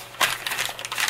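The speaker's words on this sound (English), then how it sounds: "I may give it a little bit of crumple and give it a little bit of grunge" Paper being crumpled by hand to give a grunge-style journal bag a worn look, a close, crisp crinkling that rustles in several quick bursts with no talk.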